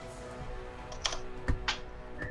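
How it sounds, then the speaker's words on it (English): Someone types on a computer keyboard close by, a steady patter of soft key clicks with a few sharper, louder taps, and no talking. "I can hear someone typing it already"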